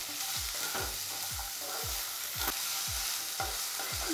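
Diced potatoes for samosa filling fry in oil over ginger-garlic paste, a steady close sizzle broken by regular stirring scrapes about every half second.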